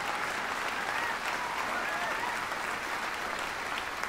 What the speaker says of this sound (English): Come on, let's hear a big round of applause.